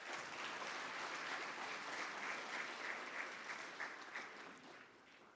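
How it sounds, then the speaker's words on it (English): Applause at a public-private forum in Namibia as speakers are called to the stage, a broad, sustained sheet of clapping from a large audience, even and distant-sounding, tapering off slightly toward the end. "Please, a round of applause."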